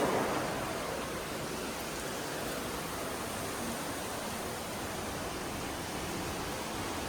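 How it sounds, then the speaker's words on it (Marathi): Heavy rain pours outside a home, heard as a broad, steady hiss like dense noise that stays constant and fairly loud from start to finish, without voices. "आणि बाहेरचा पाऊस दाखवते मी तुम्हाला किती पाऊस आलाय"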